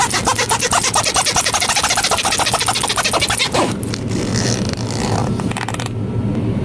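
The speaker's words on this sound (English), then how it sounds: "Zipper." A zipper on a newly unwrapped Christmas gift runs in a fast, ratcheting pull lasting about three seconds, close and fairly loud, followed by softer rustling and handling noises.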